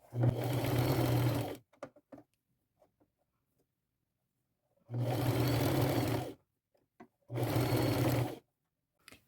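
A sewing machine runs its widest zigzag stitch in pink thread along lace ruffles, with three loud sustained bursts of stitching separated by quiet pauses holding faint handling clicks.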